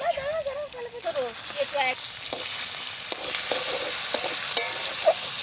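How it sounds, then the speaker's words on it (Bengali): Khichuri spices sautéed in a pot at an outdoor picnic, a close, steady sizzle with repeated spatula scrapes and taps, a voice speaking briefly at the start. "খিচুড়ির মশলা কষানো হচ্ছে"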